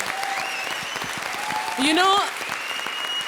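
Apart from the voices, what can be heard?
studio audience applause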